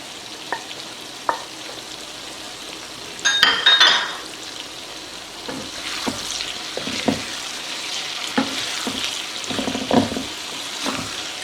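Chicken masala with serrano chilies frying in a pan, a close, continuous sizzle broken by scraping stir strokes and a brief louder burst of clatter, no one talking.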